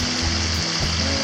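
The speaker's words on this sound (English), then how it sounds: "all these little tiny waterfalls here, and the beautiful music that running water makes" Small waterfalls and running water pour down a hillside after heavy rain in the White Mountains of New Hampshire, making a steady, full rushing wash that stays close and unbroken throughout.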